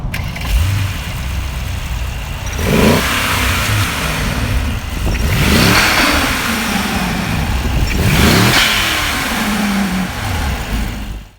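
A 2018 Mercedes-Benz E63 S AMG with a 4-liter twin-turbo V8 of over 600 horsepower idles loudly nearby, then revs hard three times in sharp swelling bursts that fall back to a burbling idle.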